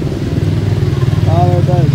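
A Honda motorcycle engine runs at about 1,000 RPM, a steady low pulsing idle that stays close and loud throughout, with a voice talking over it.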